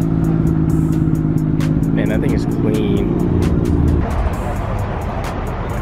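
A Nissan Skyline R34 rolls out at a large Florida car show, its engine a steady low hum beneath close, loud conversation and crowd noise.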